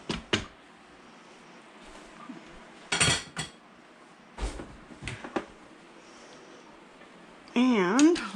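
Cooked, cold black-eyed peas are dumped into an Instant Pot with ham hock soup, making a few sharp clanks of metal utensils against the pot followed by a soft, wet thud, while a person talks.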